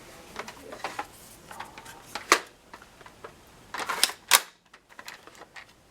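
A Talon magazine slides and clicks into a foam dart blaster. The sharp plastic clacks and rattles are close by, with a couple of loud snaps where it seats.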